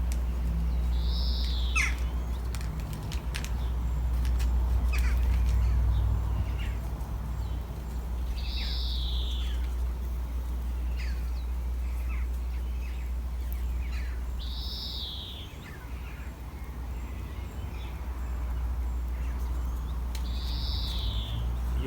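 Repeated bird calls, likely an owl, sound at a steady rhythm of about one every six seconds over a constant low rumble of outdoor background noise in a garden while planting and weeding.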